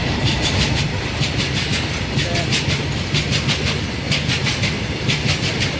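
A freight train rolls past close by, steady rumble with a repeating clickety-clack of wheels over rail joints throughout.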